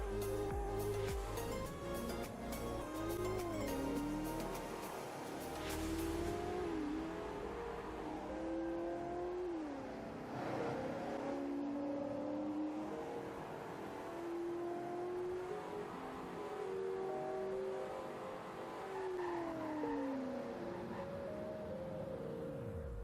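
A truck in the Roblox game Greenville revs hard from a standstill, its engine note climbing through several gear shifts before dropping away as it brakes, steady and close with no talking.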